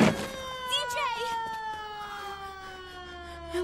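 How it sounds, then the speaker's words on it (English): An ambulance siren wails with rising and falling tones, loud at first and then fading steadily as it moves away. Voices are heard faintly under it. "At least it's an ambulance."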